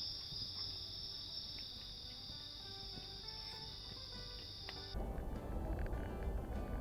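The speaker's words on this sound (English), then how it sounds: "No, plenty of crickets." Steady, high-pitched insect trilling from crickets fills the first five seconds, then gives way to a louder, rougher wash of background noise.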